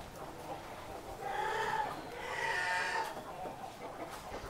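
Chickens cluck in short bursts, one or two calls rising above a low, steady farmyard background, moderately near but not loud.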